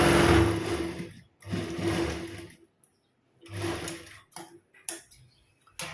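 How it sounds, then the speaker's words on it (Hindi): A sewing machine runs in three bursts of stitching, sewing a straight seam on a kurti. Short pauses separate the bursts, and a few clicks and handling sounds follow. The machine is close and fairly loud, and nobody speaks. "देखो इस प्रकार से हमने ये सिलाई लगा दी है स्ट्रेट"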